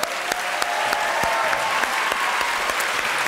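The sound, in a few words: audience applause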